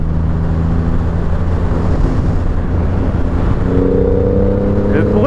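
Triumph Rocket 3R motorcycle accelerating hard, a loud continuous engine roar with wind rush, its pitch climbing near the end as it revs, with a rider's voice faintly underneath.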